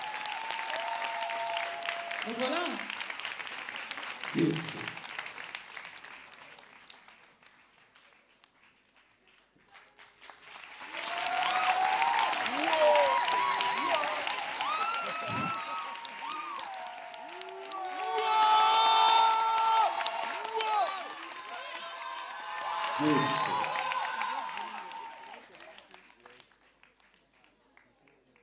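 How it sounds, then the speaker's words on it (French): Audience applause and cheering at the grand final of Star Karaoké 2013, swelling in several loud waves of clapping and crowd noise, with a presenter speaking over and between the bursts. "Mais on peut l'applaudir pendant qu'il s'installe."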